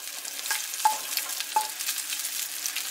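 Sausage fries over medium heat in a pan for an omelette, giving a steady, close broadband sizzle with two sharp utensil taps against the pan partway through.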